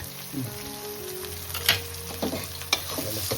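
Ginger, turmeric, garam masala, coriander powder and salt sauté with onion, tomato and garlic in a pan, a loud close sizzle with spoon scrapes and a few sharp clacks against the pan.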